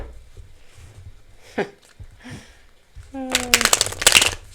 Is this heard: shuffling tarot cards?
yes